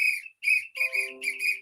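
A referee's whistle at an NFL game sounds in a series of shrill, close blasts, two short ones followed by longer trills.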